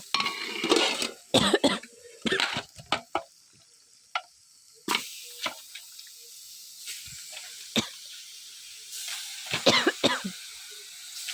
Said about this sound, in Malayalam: എരിവ് കയറിയിട്ട് ഇങ്ങനെ ചുമ വരുന്നു